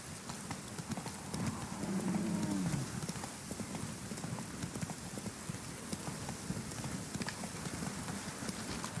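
Hooves of a horse trotting in The Witcher video game clip-clop in a steady, even rhythm, fairly close and continuous, with a slightly heavier patch of steps early on.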